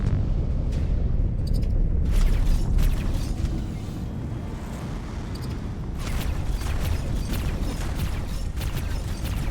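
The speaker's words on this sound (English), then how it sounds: "Oh, he's shooting guns at me." Enemy ship guns fire in X4 Foundations space combat, repeated booming bursts and impacts over a deep rumbling drone, loud and close with scattered sharp hits.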